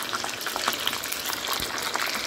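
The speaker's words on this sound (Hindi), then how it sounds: "हाई फ्लेम से चिकन को मैं फ्राई कर रही हूँ।" Chicken fries over a high flame for Afghani karahi, a dense close crackling sizzle with small pops, steady and loud, with nobody speaking.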